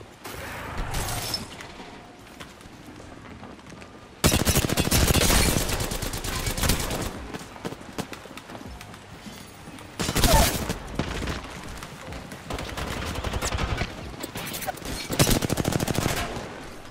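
Gunfire in the video game Apex Legends: repeated bursts of rapid automatic fire and heavy shots in loud clusters separated by quieter stretches, with a faint voice talking at points.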